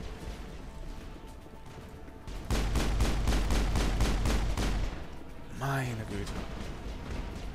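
Enemy gunfire in the Mass Effect video game, a loud rapid burst of repeated shots lasting a couple of seconds, preceded and followed by quieter game noise, with someone speaking briefly in German.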